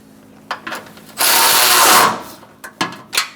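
Ratchet wrench snugging nuts on a 2012-2017 Hyundai Accent engine cooling fan assembly, quick clicking bursts close up around a longer steady spinning rasp, no talk.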